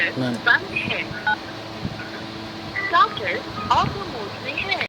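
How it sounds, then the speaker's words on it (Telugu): Phone keypad DTMF tones sent to control a BCH GSM mobile controller for a farm water pump motor, several short tone bursts spaced across the clip while someone talks over them. "నెంబర్ సెవెన్ డైల్ చేయండి"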